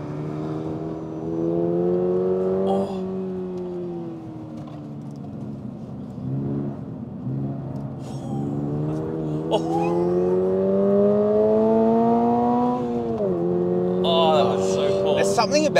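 A naturally aspirated 2023 Toyota GR86 engine revs up through the gears to redline, pitch climbing steadily to a high whine before each shift, with a voice talking over it.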